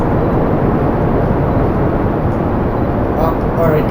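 A video-game rocket lifting off at two-thirds throttle, a loud, steady broadband roar that fills the whole stretch without letup, with a faint voice underneath.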